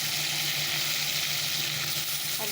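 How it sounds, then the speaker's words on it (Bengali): Steady crackling sizzle of potatoes frying in hot oil in a kadai, continuous and close, with no voices. "একটু করে ভেজে নিই আলুগুলো"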